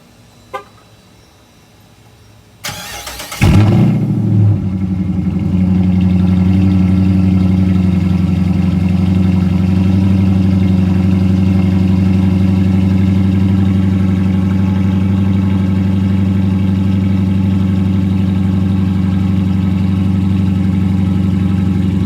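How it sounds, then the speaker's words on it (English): A Dodge Charger with open exhaust cutouts cold-starts: a brief starter crank, then a sudden loud roar that settles into a steady, deep, rumbling idle, close and alone. "I am going to do a cold start now"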